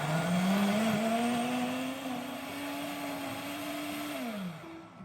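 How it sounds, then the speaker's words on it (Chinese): An electric blender whirs through chopped scallions, garlic, soaked dried shrimp and soaking water, a loud steady motor drone whose pitch climbs slightly, then winds down near the end. "将切好的葱蒜全部倒入搅拌器内，再加入泡软后的虾米，还有200毫升的泡虾米水"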